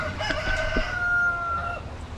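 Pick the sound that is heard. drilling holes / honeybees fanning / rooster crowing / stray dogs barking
rooster crowing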